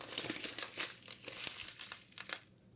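Plastic packets of embroidery thread crinkle and rustle close up in quick, irregular bursts that taper off near the end, with no talking.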